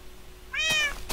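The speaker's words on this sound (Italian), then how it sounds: "Sento il gatto ma non lo vedo" A single short, close Minecraft cat meow with a clear falling harmonic tone, followed by faint clicks, otherwise quiet.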